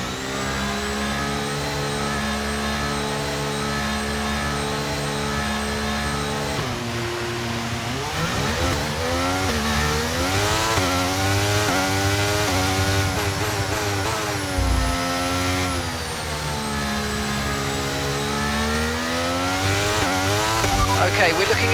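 A Formula 1 race car engine in a racing video game, heard revving at the start of a Canadian race. A steady high-pitched idle drone gives way to rising and falling full-throttle revs with upshifts, loud and close throughout.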